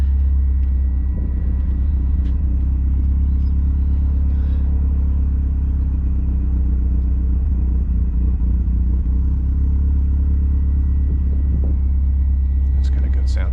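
A 1994 Subaru WRX engine idles steadily after a clutch-in start, a continuous low rumble with faint clatter holding level throughout, close by with no talk over it.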